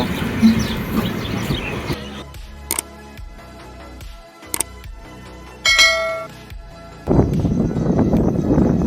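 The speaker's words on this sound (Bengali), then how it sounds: "তো বন্ধুরা ট্রেন চলে এসছে, আমরা ট্রেনে চেপে যাব।" A train pulls into a station with rumbling at the start and end, broken by sharp metallic clangs and bell-like dings in between, fairly loud and nearby.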